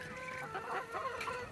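A Rhode Island Red chicken clucks in a steady run of short, fairly close calls among backyard poultry, with no voices present.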